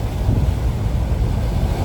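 Strong wind buffets the microphone with a deep, steady rumble, gusting slightly but never letting up, with no one speaking.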